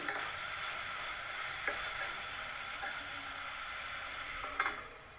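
Chopped onions with a pinch of salt fry in a pan for paneer pulao, giving a steady, close sizzle with a few faint stirring clicks and no voices.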